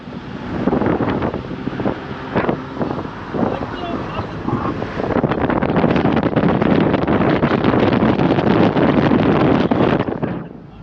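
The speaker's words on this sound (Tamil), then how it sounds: "அப்படியே காற்று பார்த்தீங்கன்னா பயங்கரமாக இருக்குது." Strong wind blows near a waterfall at Manalar in Achankoil, a dense, roaring rush that grows louder and steadier in the second half, with faint voices early on.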